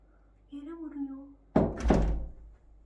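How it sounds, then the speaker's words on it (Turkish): Two heavy thuds of a foot stamping on the ground land close together, following a short stretch of someone speaking. "Hayır ayağını yere vuruyor."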